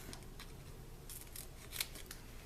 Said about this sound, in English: I want a regular size dimensional, and I'm gonna cut it in half